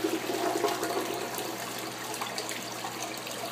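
A toilet flushes with a steady rushing of water that starts strong and tapers slightly over a few seconds, close by and alone with no talk.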